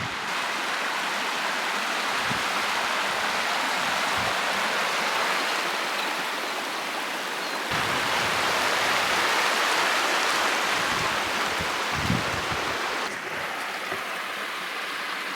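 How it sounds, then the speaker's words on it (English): River water pouring out of Cow Lake, a steady, full rushing flow that holds loud and even throughout with no voices. "This river coming out of here."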